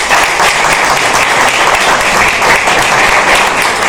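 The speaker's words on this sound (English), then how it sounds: "once again a big round of applause for everybody." A crowd at the final of a national English public speaking competition gives loud, sustained applause, dense clapping filling the hall without pause.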